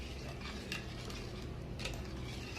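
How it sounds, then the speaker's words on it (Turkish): A utensil stirs corn flour into a pot of pepeçura, a grape-juice pudding, making a soft, continuous scraping and swishing with faint clinks against the pot and no one speaking. "Arkadaşlar güzelce karıştıracağım."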